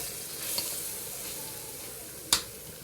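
Potato sautéing in a hot pan gives a steady broadband sizzle with a couple of brief sharp clicks, most likely a spatula touching the pan. No one speaks.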